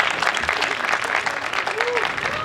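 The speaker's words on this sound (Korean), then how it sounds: "많은 박수 부탁드립니다" Audience applause fills a student council election event in a university hall right after candidates' speeches, a steady sustained clapping from a sizeable crowd lasting throughout.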